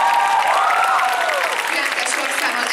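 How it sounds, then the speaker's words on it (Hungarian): Audience at a spring anime convention's performance cosplay contest applauds a contestant group, steady clapping under loud crowd noise and cheering voices, with people calling out over it. "De királyok vagytok! Taps!"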